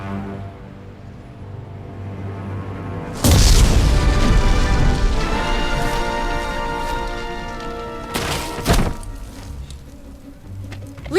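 A factory is destroyed in The Simpsons Game, a video game. A sudden loud boom rumbles and fades over several seconds, then a second sharp crash follows near the end over a low game ambience.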